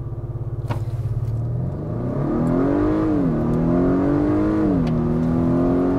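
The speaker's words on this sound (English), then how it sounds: "I'm gonna come to a complete stop and I'm going to brake boost this." A 2022 Acura RDX A-Spec held on a brake-boost at a standstill, its engine droning loud and close, then launching hard with the revs climbing through a shift and staying high.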